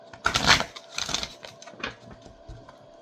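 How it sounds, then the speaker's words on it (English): A few quick papery riffles and snaps come in short bursts, close by, like a deck of cards being shuffled, fading toward the end. "One more shuffle."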